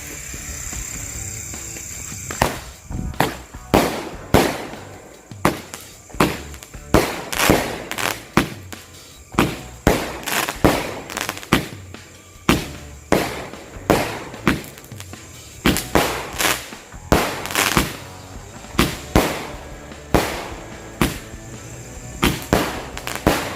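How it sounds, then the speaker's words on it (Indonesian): Two Roman candle fireworks fire together in a long run of sharp pops bursting one after another at a fairly regular pace, loud and close, with a hissing fizz between shots. "kita nyalain 2 buah mercon Roman Candle sekaligus"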